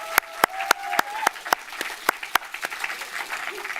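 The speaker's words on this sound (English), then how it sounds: "Okay, big round of applause for our first two groups." Sparse, distinct hand claps from a small audience at a film thesis screening, individual sharp claps spaced unevenly and moderately close, with faint background noise between them.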